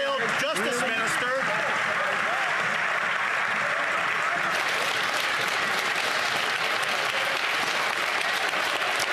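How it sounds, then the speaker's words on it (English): Members in the House of Commons break into loud, sustained clapping and applause, a dense roar of many hands with voices mixed in throughout, continuing steadily without pause. "the Conservatives interrupt very often with clapping like this"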